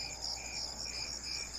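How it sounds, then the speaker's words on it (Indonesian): Steady crickets chirp behind a house in a continuous pulsing trill, fairly clear and close, with no other sounds around them. "Paling yang terdengar hanya suara jangkrik"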